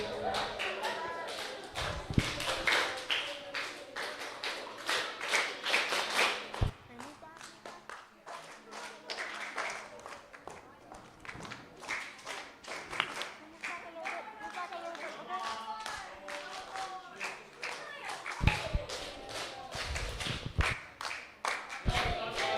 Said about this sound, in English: Can everyone stop clapping?